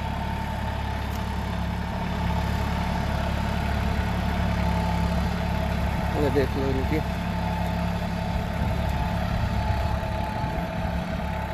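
A Preet 2549 tractor with a Mitsubishi engine idles with a steady low rumble throughout, while voices talk briefly over it.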